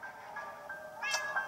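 A cat in the video game Minecraft Story Mode meows twice: a drawn-out, tonal meow followed by a sharper, louder one near the end, close and clear over a faint background.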